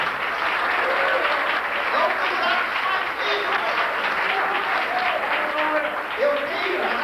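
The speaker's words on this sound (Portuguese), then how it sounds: "Dê uma salva de palmas para Jesus" Steady applause from a church congregation in an Assembly of God cathedral, continuous clapping at an even level with voices and cheers mixed in.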